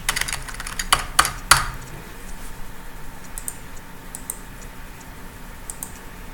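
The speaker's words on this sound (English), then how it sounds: "type in that vocabulary term there, type in the page number that I found it on" Someone types on a computer keyboard in a burst of fairly loud keystrokes, which then thin out into faint, scattered clicks with no talking.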